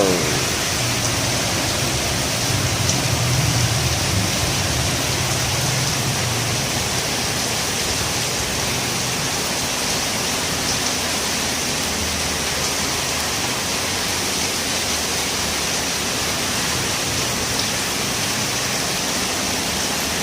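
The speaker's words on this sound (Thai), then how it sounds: "ฝนไม่หนักเท่าไหร่นะครับ" Light afternoon rain falling outdoors, a steady even hiss of drops with no breaks, moderately loud and alone with no voices.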